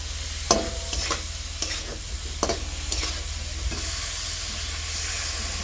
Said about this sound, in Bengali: এখানে সুন্দর করে কষাতে জিরের গুঁড়ো দিলাম, কষা হয়ে আসছে